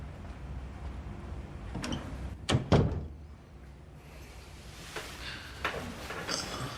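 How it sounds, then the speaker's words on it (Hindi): A door closes indoors with a couple of quick wooden thuds and a latch knock, followed by quieter clicks and shuffling in a room. "दरवाजा बंद कर देना।"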